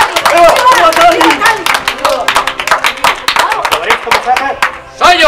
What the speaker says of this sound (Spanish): ¡Viva Stalin! En Rusia el primero que deja de aplaudir se le fusila.